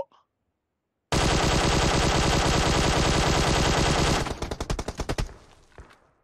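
Sustained automatic gunfire in PUBG Mobile: a loud, rapid stream of shots lasting about three seconds after a brief silence, breaking into a few spaced single shots with a fading tail.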